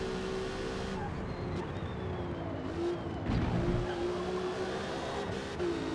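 Engine drone of a V6-swapped Mustang race car lapping the Nordschleife in a racing video game, steady and loud throughout, with a brief tire scrub near the middle.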